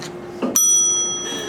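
A single bicycle-style bell rings out crisply after a brief thud, its bright metallic tone sustaining and slowly fading over about a second, with no talking.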